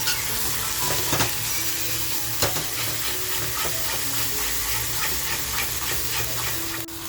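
Chopped tomatoes frying in a pan with onion for a chicken curry, a loud continuous sizzle close by, broken by occasional clicks and scrapes of stirring.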